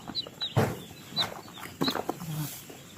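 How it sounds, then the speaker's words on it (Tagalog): Chicks being delivered for sale give high, short peeps scattered across a few seconds, mixed with low rustling and faint background murmur nearby. "ito po ngayon ang mga sisiw magaganda, malalaki."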